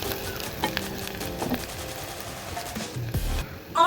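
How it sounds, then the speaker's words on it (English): Onions fry in hot oil with a steady close sizzle and crackle. Scattered stirring clatters from a utensil sound over it, and a louder burst comes near the end. "I'm going to heat up my oil, add in the onions, let them cook"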